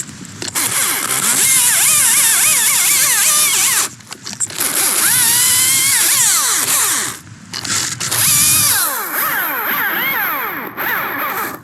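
Chainsaw cutting into a large cedar tree during a solo felling, engine loud and close, revving in long sustained bursts with brief drops between cuts.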